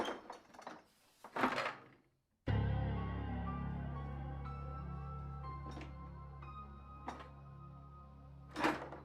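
In a Telugu audio story, a heavy door is pushed open after a few soft knocks and clatters, followed by a long, low resonant creak and rumble that fades slowly, with occasional light clicks on top.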